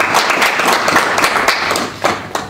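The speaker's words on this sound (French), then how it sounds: "j'aimerais déjà qu'on applaudisse l'intervention du frère" An audience at a conference on the war in Kivu applauds a speaker's talk, a close, dense burst of steady clapping from many hands with no voices.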